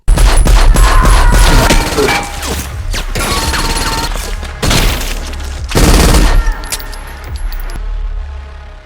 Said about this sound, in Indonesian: Sampai terjadilah baku tembak.